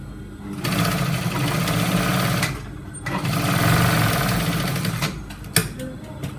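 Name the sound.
sewing machine stitching a trouser seam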